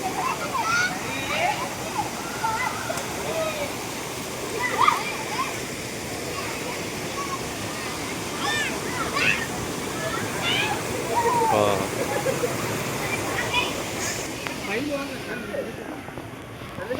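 Dara Mattam waterfall near Narsipatnam roars in a steady, broadband rush of falling water heard from close by. Faint voices may sit beneath the continuous noise.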